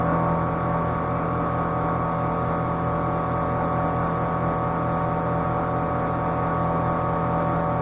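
A 3/4 inch carbide end mill with a small corner radius makes a slow milling pass across a steel broach, a steady loud machine hum and whine with even, unchanging tone throughout.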